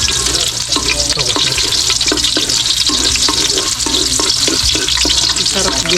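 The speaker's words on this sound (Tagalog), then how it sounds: "sarap gisahin mo lahat" Onions sauté loudly in a pan for a Filipino dish, with a steady, close sizzle and frying hiss throughout and rhythmic stirring scrapes of a utensil against the pan.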